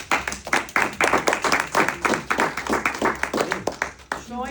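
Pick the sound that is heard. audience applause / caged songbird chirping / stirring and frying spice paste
audience applause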